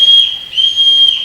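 A shrill whistle is blown to summon people in a 1994 stage production of The Sound of Music. Three sustained, piercing blasts ring out clearly, with short gaps between them and no talk.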